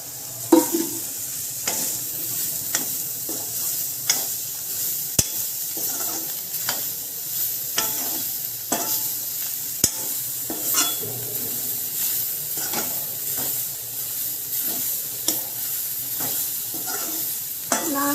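Soya chunks being stirred and fried for soya sukka, a steady loud sizzle running throughout with repeated sharp scrapes and clacks of a spoon against the pan at an irregular rhythm.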